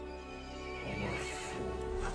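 Horse in the video game Resident Evil Village giving a short whinnying neigh with a few hoof clip-clops, fairly faint and heard alone over a low background hum.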